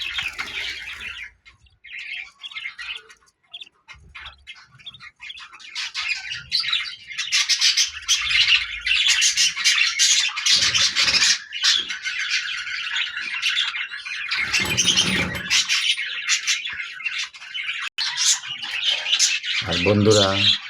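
Pet budgerigars kept on a balcony chirp and squawk in a dense, continuous chorus, loud and close, with a few soft low bumps and a brief flutter near the end.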